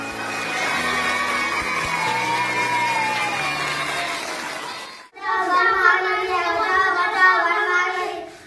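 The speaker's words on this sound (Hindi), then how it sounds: "कागज के टुकड़ों में आग लगा दी तो ये बच्चे चिल्लाने लगे" Children in a classroom raise a loud clamour of overlapping shouts and excited voices during a fire-safety drill where paper scraps are set alight, the noise building after a tonal, droning stretch and continuing steadily.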